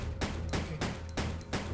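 Gunfire from a weapon in Resident Evil Survivor 2, shot at a wall: four loud, evenly spaced shots, each a sharp blast with a short tail, alone without talk.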